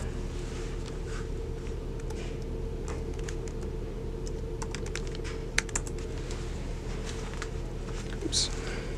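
Keys click on a Lenovo N23 Chromebook keyboard as a password is typed, giving a run of quick, light, irregular taps over a low steady background hum.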